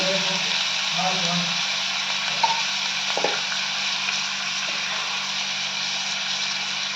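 Mutton pieces sauté with turmeric in a pan, giving a steady, fairly loud hissing sizzle with a few brief clinks, while a voice speaks over the start.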